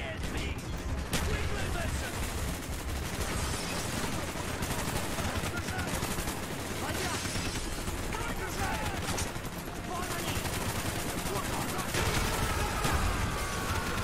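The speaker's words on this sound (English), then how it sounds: "Oh my god, where am I getting shot from?" Rapid automatic gunfire and bursts of shooting fill a Black Ops video game battle, dense and continuous throughout, with a player's voice talking underneath.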